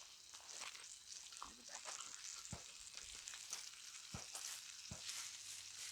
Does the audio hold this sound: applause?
no